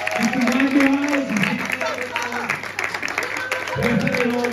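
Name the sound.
audience applause at hypnotist comedy show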